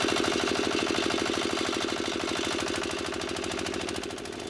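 A modified diesel engine electric generator running on biogas in an Indian village chugs steadily with a fast, even, pulsing beat. It is loud, near and alone, easing slightly toward the end.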